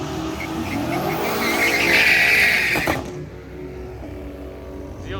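A drag racing car launches hard at a strip, engine roaring loud and rising for about three seconds, then dropping away as it pulls off into the distance.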